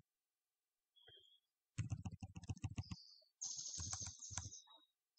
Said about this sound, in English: the host name can be checked by typing a command host name